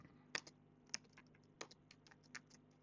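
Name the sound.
typing on a computer keyboard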